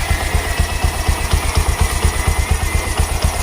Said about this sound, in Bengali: এখন কিন্তু স্মুথ, আর কোনো সাউন্ড নাই, ইঞ্জিনের কোনো ব্যাড সাউন্ড নাই